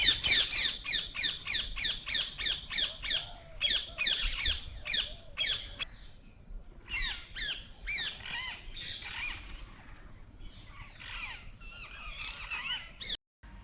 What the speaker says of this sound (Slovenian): Te glasne ptice so meniški papagaji.